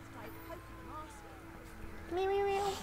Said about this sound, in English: Hey, look at this cat.